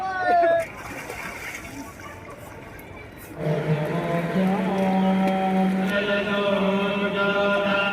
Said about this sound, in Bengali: এখন গঙ্গাতে মা গঙ্গার কোলে পুণ্য স্নান করবো